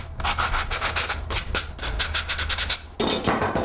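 Rhythmic hand sanding, quick back-and-forth scratchy strokes close up, pausing briefly twice, with no talking.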